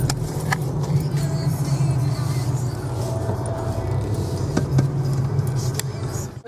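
A car driving along, heard from inside the cabin as a steady low engine and road rumble with a few faint knocks, no talking.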